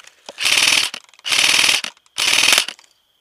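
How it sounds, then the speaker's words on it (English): An airsoft gun fires during a skirmish in three rapid full-auto bursts, each about half a second long, close and sharp with clean gaps between them. "I'll give you cover fire"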